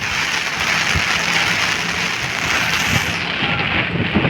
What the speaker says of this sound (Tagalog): ang lakas ng ulan mga bayan